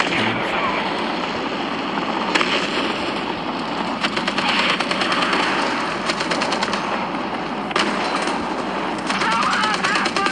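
A .50 caliber machine gun fires in a tank video game, a continuous loud rattle of rapid shots over dense battle noise.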